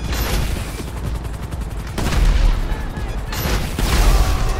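Continuous heavy gunfire in Grand Theft Auto V, loud rapid shots and booming impacts layered thickly together, swelling in waves for several seconds without a break.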